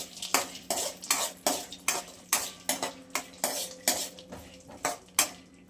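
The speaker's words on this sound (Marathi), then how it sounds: "आपण बदाम आणि हे काजू थोडेसे रोस्ट करून घेऊयात" Almonds and cashews roasting in homemade ghee in a pan, stirred with a metal spoon that scrapes and clinks in a steady rhythm of about two strokes per second, close, with only a faint sizzle beneath.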